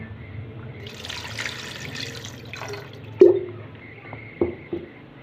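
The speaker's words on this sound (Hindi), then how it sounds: "तो अब हम इसमें 1 गिलास पानी डाल देंगे।" Water pours steadily for a couple of seconds into a pot of aloo gosht (potato and meat curry), followed by a few soft clinks and knocks of kitchenware, with a low background hum throughout.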